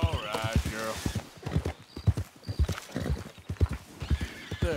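Horse hooves clip-clop and a horse whinnies in Red Dead Redemption 2, loud and close, with someone speaking softly to the animal over the hoofbeats.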